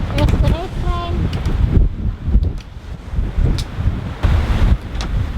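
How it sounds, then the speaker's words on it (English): Wind roaring steadily across a microphone on a sailboat freshening between Belfast and Lamlash Bay off the Isle of Arran, loud and continuous with gusty swells and a few brief tonal sounds near the start. "Suddenly and quite opposite to the forecast, the wind freshens up"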